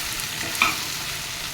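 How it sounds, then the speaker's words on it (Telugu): Drumstick (moringa) fry is stirred in a pan, giving a brief steady sizzle with a single light scrape of the spoon. "ములక్కాయ వేపుడు చక్కగా కలియబెట్టి"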